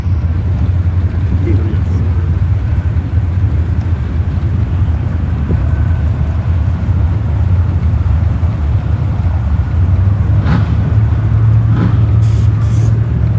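Two Chevy trucks roar in a drag race at a truck fest at Xtreme Raceway Park, their engines a loud, continuous rumble that swells slightly toward the end, with faint crowd voices mixed in.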